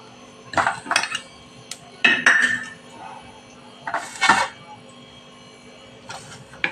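A steel spoon clinks against a pot while ghee goes in for tempering moong soup, several bright metallic clatters in short bursts with quiet pauses between, close by.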